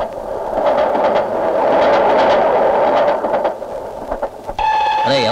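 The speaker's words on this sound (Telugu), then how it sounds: "రైలు వచ్చేస్తుంది, ఇప్పుడు ఎలాగా?" A train pulls into a railway station in a Telugu film scene, its loud, steady rumble filling the platform before bright horn-like tones sound near the end, with no voices.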